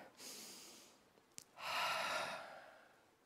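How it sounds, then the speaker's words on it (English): Slow deep breath taken alone: a long hissing inhale, a brief click, then a longer, louder exhale that fades out. "Just take a deep breath with me."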